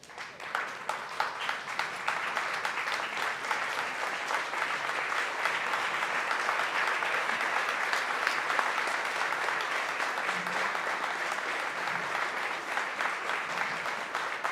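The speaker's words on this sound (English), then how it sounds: "may we please just stand up and give him a round of applause" A standing audience applauds at a film festival awards event, sustained dense clapping from a large crowd that holds steady and fairly loud for the whole stretch.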